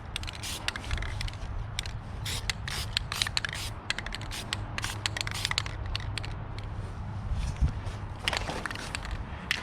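Metallic spray paint hissing from an aerosol can onto a Chevy Caprice taillight housing, a close, continuous spray with crackly scraping and rubbing noise running throughout.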